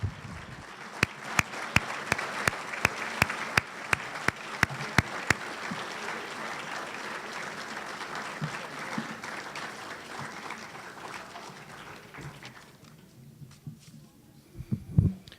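An audience at a Rotary Club luncheon applauds the day's winners, a sustained patter of many hands that holds steady for several seconds, then dies away, with a few scattered noises after it.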